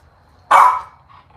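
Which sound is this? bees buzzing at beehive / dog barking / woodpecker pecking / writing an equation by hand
dog barking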